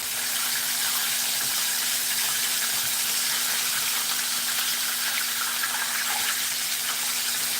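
Crappie fry in shallow beef tallow with a steady, even sizzle and hiss, loud and close, continuous throughout with no talking.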